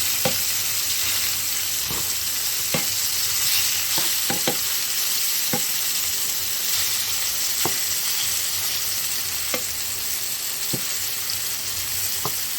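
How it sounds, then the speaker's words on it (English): Beef browns in hot oil in a pot with a steady, close sizzle and crackle, broken by a few sharp clicks of stirring or turning; no one speaks. "Now I'm going to go ahead and put the meat in there."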